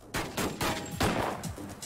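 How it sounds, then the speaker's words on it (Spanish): Gunfire rings out in a bank shootout in Virginia, with rapid, closely spaced loud shots in an irregular volley over nearly two seconds. "119 disparos por todas partes. Están disparando."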